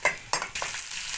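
Spices temper in very hot oil in a kadhai over a Himachali wood-fired chulha, giving a close, bright sizzle that flares in quick bursts before settling into a steady hiss.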